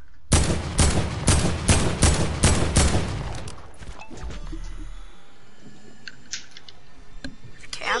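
Rapid burst of automatic gunfire in the video game Fortnite, a loud volley of sharp shots for about three seconds, then scattered faint clicks and effects.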